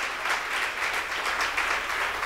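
A church congregation claps hands together in praise during a Tamil Christian sermon, a dense continuous patter of many hands lasting a couple of seconds at steady volume with no speech over it.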